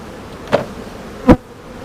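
Honeybees buzzing at an open beehive, two short close buzzes as single bees fly past the ear, over a faint steady hum.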